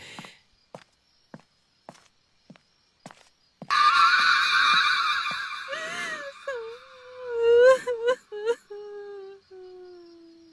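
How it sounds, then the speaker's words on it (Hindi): Slow, evenly spaced footsteps give way to a drawn-out, wavering wail like someone sobbing in pain, rising and falling before trailing off. "कहीं पास से रोने की आवाज आई"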